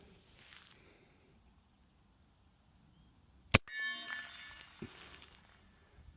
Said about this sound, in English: The ringing of the target is much louder than what you're hearing from behind.